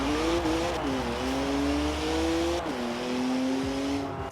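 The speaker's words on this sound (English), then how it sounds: "It's a better sounding car than I thought it would be." Toyota Supra in the Forza Horizon 4 racing game, its engine droning loud and steady as it cruises, the pitch rising and falling with brief shifts.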